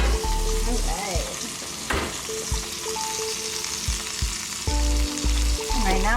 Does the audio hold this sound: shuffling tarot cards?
no